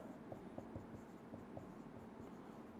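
Marker or chalk writing on a board in a classroom lecture, a faint scratchy scrawl of short strokes in steady rhythm, alone and close.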